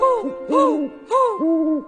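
A sung owl hoot in a Thai children's song, a voice imitating the bird with rising-and-falling "hoo" calls in a melodic pattern, clear and close.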